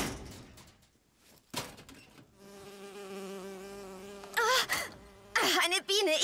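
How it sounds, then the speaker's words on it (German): An insect buzz from the video game Bioshock Infinite drones close and steady for a few seconds with a wavering pitch, bracketed by bursts of louder rustling and clattering game noise. "Oh, eine Biene. Ich hasse diese Viecher."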